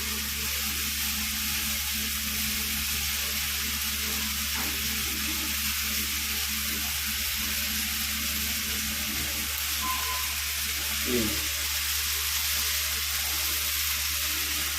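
Fig pieces frying in a pan with sautéed onion and tomato produce a constant, even sizzle for a long stretch, close and unbroken, with one faint clink near the end.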